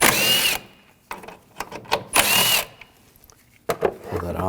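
A power tool spins a 10mm socket in short bursts under the hood of a 2007-2013 BMW 328i 3.0L inline-six during a water pump job, a few loud whirring pulses broken by gaps and clicks, with someone talking in between.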